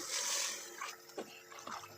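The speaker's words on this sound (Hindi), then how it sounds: "अब इसमें डलेगा 1 लीटर पानी" About a litre of water is poured into a cooking pot of softened tomatoes and browned meat: a brief, faint splashing rush at the start, followed by a few soft knocks and small sounds.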